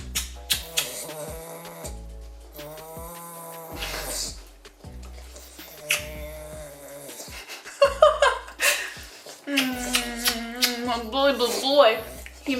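A Staffordshire bull terrier grunts and snorts in short repeated bursts close by, mixed with breathy snuffling and some rustling.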